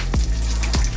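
Curry leaves drop into hot oil and crackle in a short, loud, close-up burst of frying, with two sharp pops standing out over a dense sizzle.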